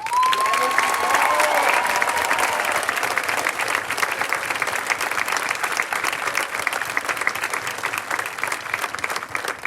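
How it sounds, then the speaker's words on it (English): An audience at a 2021 high school graduation ceremony gives sustained applause for the staff speaker, broad steady clapping filling the hall for nearly ten seconds, with a few faint cheers mixed in. "Please join me in a round of applause for our staff speaker"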